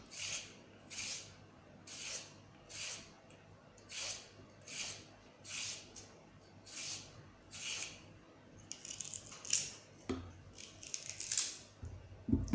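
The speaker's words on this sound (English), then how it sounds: "Just peel off the carrots." Rhythmic scraping of a peeler stripping carrots for a vegetable gratin, about a dozen regular strokes roughly one per second, close and crisp, with a few sharper clatters near the end.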